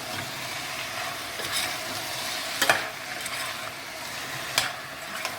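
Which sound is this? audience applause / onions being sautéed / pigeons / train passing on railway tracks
onions being sautéed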